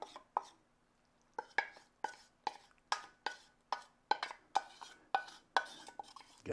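A spoon working wet ingredients into a dry ANZAC biscuit mixture in a bowl, knocking and scraping in a steady series of close, sharp strokes after a brief pause.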